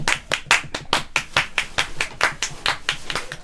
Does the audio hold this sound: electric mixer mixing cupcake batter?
no